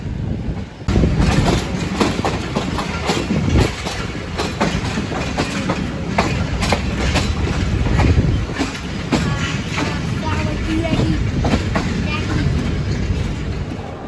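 Ghouri Express passenger train pulling into a Lahore platform, loud continuous rumble with rhythmic clickety-clack of wheels over rail joints and brief squeals, heard from on board.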